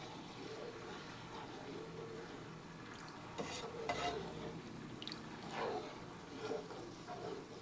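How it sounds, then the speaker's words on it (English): Mexican rice being stirred in a pot as it comes to a boil, with soft scraping and swishing strokes under a steady bubbling, sizzling background, close and moderately quiet. "I'm going to stir it up really well."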